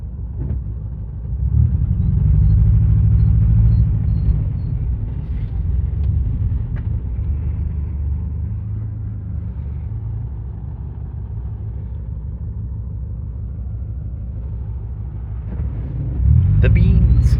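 A Ford Aspire car engine rumbles low and steady on a test drive, rising loudly near the start and again at the end, with talk over it.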